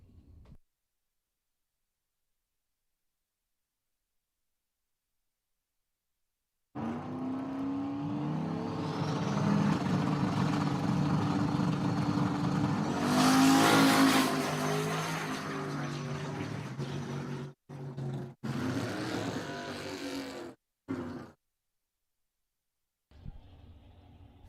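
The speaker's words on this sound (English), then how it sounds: "Look at that chrome Mustang on the line. It's amazing what they can do with these wraps. Camaro versus Mustang." A chrome Mustang and a red Camaro drag race at Empire Dragway, loud engines roaring and building in a sustained blast for several seconds, then cutting off in choppy bursts, with stretches of silence before and after.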